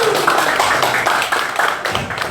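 Audience applause at an SCP Indonesia presentation in Cilegon, a short burst of dense, steady clapping filling the room.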